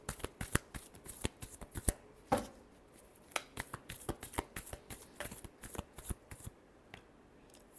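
Tarot cards being shuffled by hand in a last shuffle before a reading, a quick run of crisp, close riffling flicks and taps that spreads through the whole stretch with no talk.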